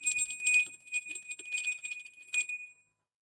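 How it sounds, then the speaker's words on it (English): A small bell rung at a live tarot reading rings out clearly and alone, a bright sustained tone with shimmering overtones and a second strike near the end, then fading to silence. "So as always, we ring the bell."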